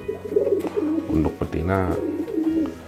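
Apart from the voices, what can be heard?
pigeon cooing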